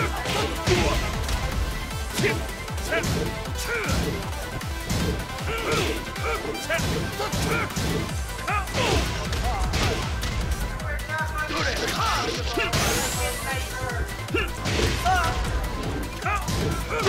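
Rapid combo hits in Tekken 7 during a Dubai tournament match, dense sharp smacks and crashes in quick succession under excited commentary and crowd noise.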